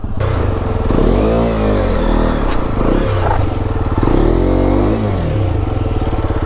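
A motorcycle with ABS is ridden off-road on a rough trail up Mandalpatti peak in Coorg. The engine revs close and loud, rising and falling with throttle changes, while scrapes and rattles from the rough ground run underneath and no one speaks.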